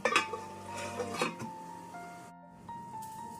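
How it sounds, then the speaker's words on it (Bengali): A metal lid clinks and scrapes as it is lifted off a pan of fish, followed by a lingering faint metallic ring in a quiet kitchen. "ঢাকনাটা আমি এবারে সরিয়ে নিলাম আর এতে সামান্য জল অ্যাড করলাম"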